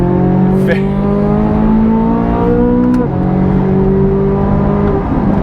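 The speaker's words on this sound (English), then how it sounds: "this engine, because obviously you can hear it just howling away back there" A Corvette C8 Z06's loud hand-built V8 engine howls steadily from inside the car, a sustained droning roar with a brief dip in pitch midway before holding again.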